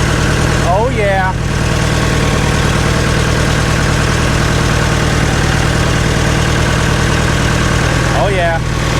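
An old forklift engine, smoking and headed for the scrapyard, idles loudly and steadily close by with a constant low rumble, and a brief squeaky chirp rises above it near the start and again near the end.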